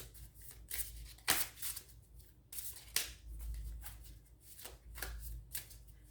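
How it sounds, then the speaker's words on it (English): Cards are riffled and shuffled repeatedly up close, in several quick crisp bursts with short pauses between them, no talking. "Let me just shuffle the cards"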